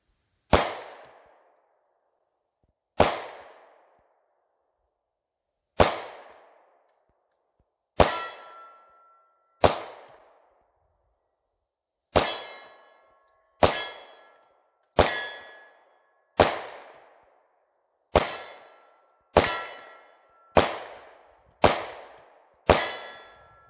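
Suppressed gunshots striking a metal stop sign, fourteen sharp metallic clangs each ringing briefly before decaying, spaced a few seconds apart at first and then coming faster, loud against otherwise quiet surroundings.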